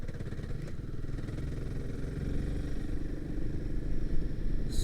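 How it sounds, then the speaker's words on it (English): Royal Enfield Himalayan 452 motorcycle, a single-cylinder engine of over 40 brake horsepower, running with a steady throbbing beat that builds slightly in loudness, close and continuous with no talk. "the engine feels totally different"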